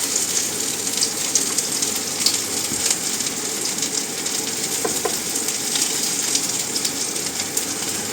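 Potato patties for a vegan burger frying in a pan, a steady loud sizzle that runs unbroken throughout with small crackles and no voices.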